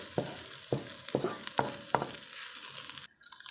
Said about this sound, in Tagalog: Gigisa natin siya hanggang lumabas yung amoy ng dried shrimp.